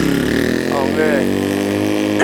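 A Yamaha BW200 dirt bike engine runs in a steady droning buzz with a rising rev partway through, heard under someone talking.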